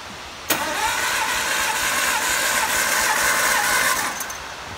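The engine of a 1954 MG TF cranks over steadily for a compression test on cylinder two, a loud, close, rhythmic churning that starts abruptly, runs about three and a half seconds and then stops.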